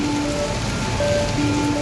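Heavy mountain rain pours down steadily, a dense continuous hiss of drops striking the ground and surfaces, loud and unbroken, with faint tonal hums running underneath.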